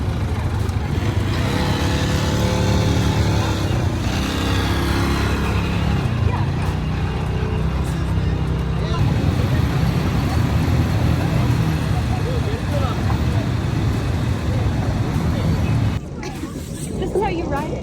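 Several ATV engines run loud and steady during a group ride in Turkey, a continuous rumbling drone with overlapping motors and people talking and shouting over it, dropping abruptly near the end.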